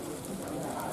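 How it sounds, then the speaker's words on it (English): Light rain falls on the ground at a cricket match, a steady, soft, even patter with no break and no talk over it. "It's just light rain."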